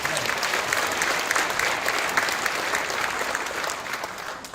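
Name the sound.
congregation applause for the pastor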